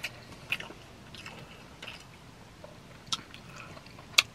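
Someone eats Dominican rice and chicken up close, with soft wet chewing and a few sharper bites and smacks spread across a quiet background, and no talking.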